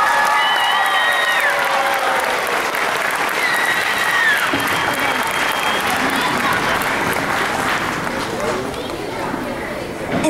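A talent show audience applauds performers and MCs with loud, sustained clapping and cheering, whistles rising above the crowd early on before the ovation gradually thins.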